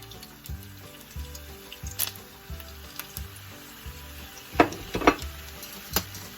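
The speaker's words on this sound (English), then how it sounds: "I'm gonna wait to fry it nice and crispy" Tacos fry in hot oil with a continuous crackling sizzle, punctuated by a few louder pops and spatters, over a faint rhythmic thumping in the background.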